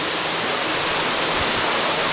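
Waterfall roaring as a steady, loud, broadband rush of falling water, close by and unbroken throughout.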